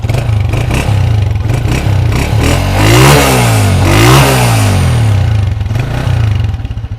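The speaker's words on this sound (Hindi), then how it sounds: "इंजन का जो साउंड है वो भी बिल्कुल स्मूथ है" A restored Honda CG125 motorcycle engine idles loudly up close, then revs up and down twice before settling back to a steady chugging idle.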